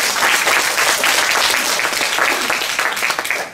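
An audience applauding to welcome a plenary speaker at an academic address, steady, dense clapping from many hands, loud and sustained before tapering slightly at the end.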